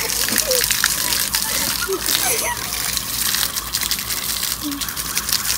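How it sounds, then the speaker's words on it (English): A garden hose sprays water to rinse maple syrup off people, a steady rushing gush with splashes, while children's voices talk and exclaim over it. "I'm about to hose them off"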